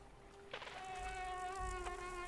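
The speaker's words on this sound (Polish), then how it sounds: "Mucha morderca niestety to jest." A killer fly or mosquito in the game Limbo buzzes with a steady, thin, whining drone that holds throughout, faint and close, with no talking.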